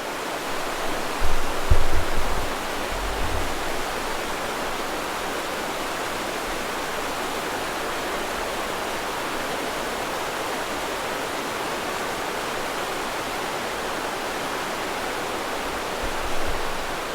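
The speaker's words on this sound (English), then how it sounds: "That water's loud." A loud mountain river in the Colorado Rockies rushes in a constant, close, broadband roar that lasts throughout, with a few brief low thumps early on and no talking.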